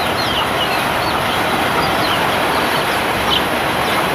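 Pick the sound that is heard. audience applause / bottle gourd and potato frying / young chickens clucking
young chickens clucking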